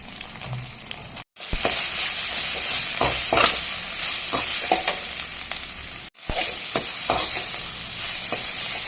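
Ground curry leaf paste, made without water, sizzles and fries in a pan as a spoon stirs and scrapes it in repeated strokes, with a steady hiss and two brief dropouts, loud and close with no talk.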